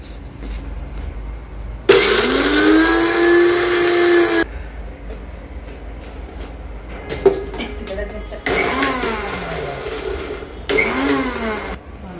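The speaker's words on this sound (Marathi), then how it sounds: "हे ना मिक्सरला वाटून घेते ना बारीक असं." A mixer grinder whirs through ginger-garlic paste with a spoonful of cumin for chicken biryani, in three loud motor bursts of a few seconds each, rising and falling in pitch and separated by quieter pauses.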